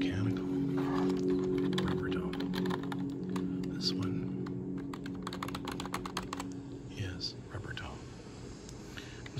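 Rapid clacking of keys on a Logitech K350 computer keyboard, typed in quick flurries with pauses, close by and fairly quiet against a low hum.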